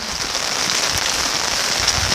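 Rain patters onto an umbrella overhead in a dense, steady hiss of close drops, with no voices.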